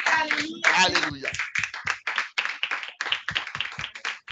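A church congregation acclaiming the word of the Lord at a Sabbath service, with a burst of clapping and voices at first, then a run of rhythmic hand claps, close and lively.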